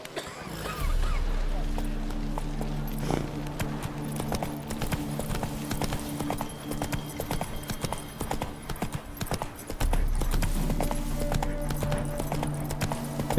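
The horse Roach in The Witcher 3: Wild Hunt, with a steady clip-clop of hooves in a brisk rhythm under game music and a voice talking.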